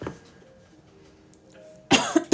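Near the end, a single person gives a sharp burst of coughing, two or three rough hacks after a mostly quiet stretch.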